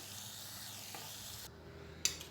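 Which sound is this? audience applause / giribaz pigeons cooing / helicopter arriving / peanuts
peanuts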